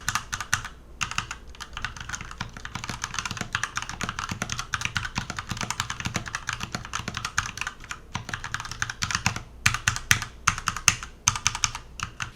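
Fast, steady typing on a budget TKL gaming keyboard, its mechanical switches clacking close and crisp in dense bursts with brief pauses, and no voices.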